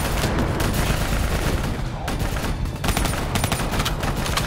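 Dense, continuous automatic gunfire aimed at a VTOL aircraft in the Call of Duty: Black Ops 3 campaign, loud and close, with overlapping bursts and booming shots that barely let up.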